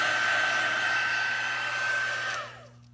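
Heat embossing tool blowing hot air to melt embossing powder on a handmade card, a steady close whine with a constant hum that runs for over two seconds before winding down as it switches off.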